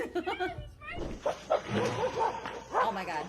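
A dog yapping and whimpering in short high-pitched barks and whines mixed with excited human voices and exclamations, close and fairly loud throughout.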